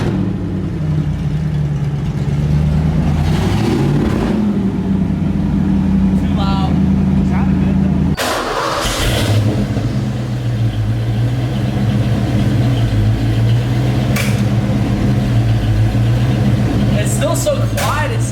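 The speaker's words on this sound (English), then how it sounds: "We'll give you a wee rev in just a minute." Ford Foxbody Mustang V8 idling with open headers, a loud, steady rumbling exhaust with a brief blip partway through, while people talk over it.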